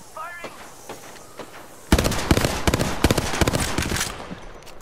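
Rapid, loud automatic gunfire bursts out midway through a video game battle and keeps hammering, after a quieter stretch with faint sounds and a brief voice.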